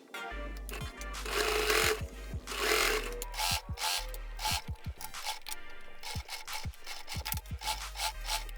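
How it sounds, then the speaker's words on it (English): A sewing machine stitches tote bag lining fabric in short bursts of rapid mechanical clatter, separated by brief pauses and clicks, close and fairly loud with no talking. "Secure it with the clips and sew it."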